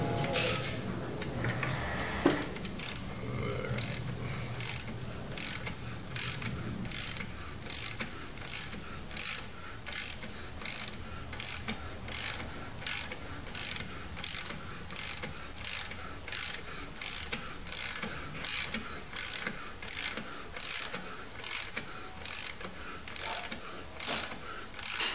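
Wrench turning a thread tap in a drilled exhaust manifold for a Jensen-Healey, a steady ratcheting of rapid clicks in regular bursts, close and clear, with no talking.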